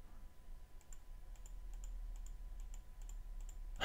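Faint, sparse key presses on a computer keyboard during play of an indie horror game, scattered single clicks over a quiet room hiss, ending with a louder burst.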